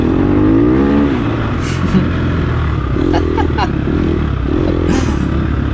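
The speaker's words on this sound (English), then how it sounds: "And he's revving his 450 too" A 450 dirt bike engine revs nearby during an off-road race, a loud continuous droning roar with rising and falling pitch and a few sharper throttle blips, while a rider talks over it.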